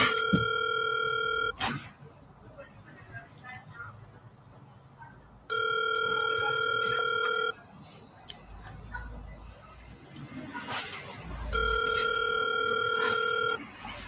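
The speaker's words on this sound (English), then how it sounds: "I'm not answering that phone." A telephone rings in three separate bursts, each a loud sustained electronic tone lasting about two seconds, with quiet room noise and faint shuffling between rings.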